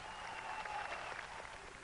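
An audience of about 400 students, trade unionists and left-wing party activists applauding in a hall, a soft continuous patter of many hands heard at a distance.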